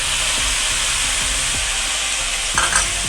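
Chicken jalfrezi frying in a pan as soy sauce goes in, with a loud, steady, close sizzle and hiss, low rhythmic stirring knocks beneath it, and a brief burst near the end, without talking.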